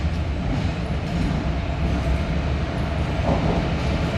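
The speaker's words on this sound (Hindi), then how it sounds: "जो इंजन आप आते हुए देख रहे हैं बगल वाली ट्रैक से, वो इसी ट्रेन का है।" A locomotive engine from Arakkonam in South India approaches on an adjacent track near the Daraganj railway line in Prayagraj, making a steady, loud rail rumble throughout with no talking.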